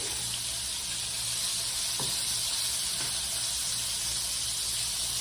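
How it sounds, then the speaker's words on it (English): Battered shrimp fry in hot oil with a constant, dense, close sizzle that holds steady throughout, with a couple of faint clicks and no talk. "You want your shrimp to get nice and crispy because you're going to toss it in the sauce"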